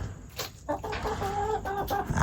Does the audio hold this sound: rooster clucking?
yes